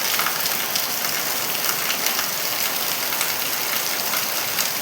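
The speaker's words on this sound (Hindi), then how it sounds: "देखो कितनी ज़ोर की बारिश लगी हुई है।" Constant roar of heavy rain falling on surfaces, loud and unbroken, with no voices.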